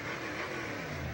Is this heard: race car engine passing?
yes